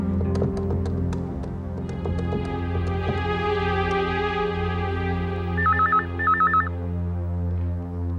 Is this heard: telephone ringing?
yes